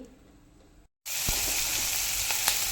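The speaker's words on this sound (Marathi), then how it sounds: "आता हे सगळं आपल्याला व्यवस्थित लो फ्लेमवरती भाजून घ्यायचं आहे" Ginger, cashews, garlic, chilli and chopped onion frying in ghee over a low flame give off a steady, close sizzle with small crackles and pops. The sizzle starts abruptly after a short silence.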